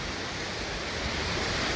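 A moorland waterfall, the Devil's Back Door, roars as a steady, dense broadband rush, close and unbroken, with no voices.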